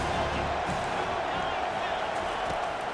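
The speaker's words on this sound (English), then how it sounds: "Man, this crowd really affecting the football." A home stadium crowd in the NCAA 25 college football game, Stillman vs Alabama, roars as a continuous, loud, dense wash of cheering that holds steady throughout.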